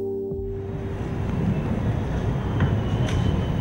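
Train on a 20-minute rail journey arriving at Amsterdam Central Station, a steady broadband rumble of the carriage running on the tracks, close and continuous, with no talking.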